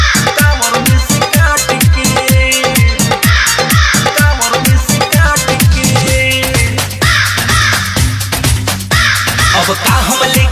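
Loud crow caws ring out repeatedly within a Bhojpuri Bol Bam devotional song, set against driving percussion and synth backing that carry through the whole stretch.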